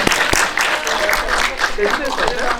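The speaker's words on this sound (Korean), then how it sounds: "우리 서로에게 격려 박수 보내면서 마치도록 하겠습니다." Encouraging applause from an audience at a film screening and guest talk in Korea, a steady wash of clapping that continues under a speaking voice.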